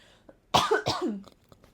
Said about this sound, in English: I also have a pesty cough, so you're gonna have to deal with that for the rest of the video